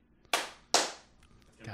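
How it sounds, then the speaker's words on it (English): Two sharp, light hand claps in quick succession, close by and a little thin, with a brief voice starting right after. "that is such a weak clap"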